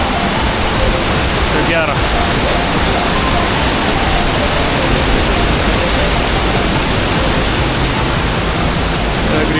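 Water rushes steadily through Sapadere canyon in a loud, unbroken broadband roar that fills the whole stretch, with a brief voice speaking over it.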